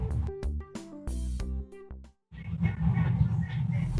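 Music plays from the car radio inside a 2021 Gazelle NEXT Citiline PUV: a plucked, tonal passage, a short dropout, then a fuller, busier beat-driven section, all fairly close and loud.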